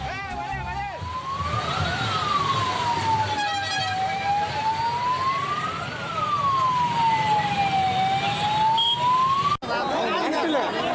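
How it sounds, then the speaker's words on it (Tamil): Ambulance siren wailing slowly up and down on a main road between Dharmapuri and Salem, loud and close over the rumble of queued traffic, with a brief engine noise near the end. "ஆம்புலன்ஸ் உள்ளிட்ட வாகனங்கள் செல்ல முடியாமல் வரிசை கட்டி நின்றன"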